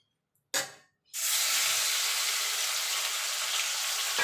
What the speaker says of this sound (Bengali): तेले चिंगड़ी माछटा भेजे नेब।